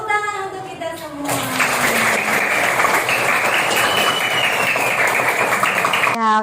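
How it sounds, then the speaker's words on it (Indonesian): Applause from a classroom of students during an Islamic studies lesson on Isra Mi'raj, breaking out after a teacher's voice and continuing steadily, then cutting off abruptly. "Tepuk tangan untuk kita semua."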